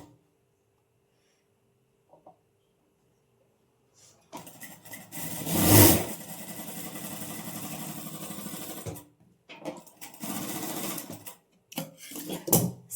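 A sewing machine stitches a neck strip onto a kurti, running in a loud continuous burst after a quiet start, then in shorter stop-start runs, with no talk.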